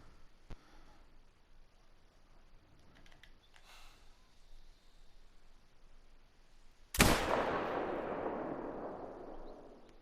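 A single rifle gunshot in a mule deer hunting video game cracks out loudly after a long, quiet stretch, followed by a long, fading, rolling echo.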